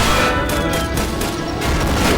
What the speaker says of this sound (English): Look at that explosion barrel